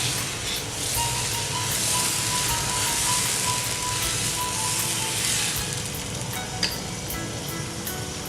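Pesarattu, a green gram dosa, with its batter poured onto a hot tawa, giving a steady, fairly loud broadband sizzle and hiss that runs unbroken for several seconds.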